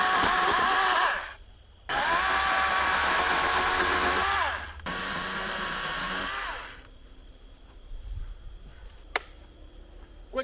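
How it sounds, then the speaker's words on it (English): A small chainsaw cuts brush on a hiking trail, revving hard in three sustained bursts with short dips between, then cutting out and leaving quiet outdoor ambience with a few light knocks. "This is my first chainsaw ever."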